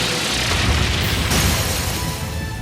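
A loud, sustained boom from the Brionac attack in Trails of Cold Steel III, a broad roaring blast that fills the whole moment and tails off slightly at the end.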